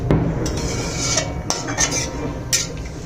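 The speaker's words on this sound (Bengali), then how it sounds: "একবারে এই আলুগুলোকে জলটির সাথে ভালো করে মিশিয়ে নেব।" Potatoes for doi aloo are stirred with water in a pot, with a spoon clinking and scraping against the metal in quick, uneven knocks over a soft background hiss, and no voices.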